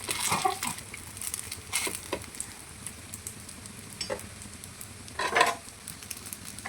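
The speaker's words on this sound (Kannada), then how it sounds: "ಈಗ ಎಣ್ಣೆ ಹಾಕ್ಕೊಂಡು ಚೆನ್ನಾಗಿ ಇದನ್ನು ಬೇಯೋಕ್ಕೆ ನಾನು ಹಾಗೆ ಒಂದು ಸ್ವಲ್ಪ ಹೊತ್ತು ಬಿಡ್ತಿದ್ದೀನಿ" Pori adde cooks in oil on a pan with a low continuous sizzle, punctuated by scraping stirs and a louder crackling flare near the end, close and with no talking.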